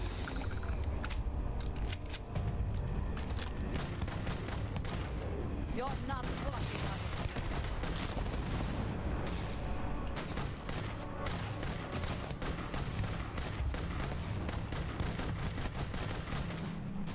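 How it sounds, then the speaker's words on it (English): Dense, continuous gunfire from exploding bullets in the video game Starfield, rapid overlapping shots and bursts sustained throughout at steady loudness, with a voice talking over parts of it. "My randomly exploding bullets sure seem to randomly explode."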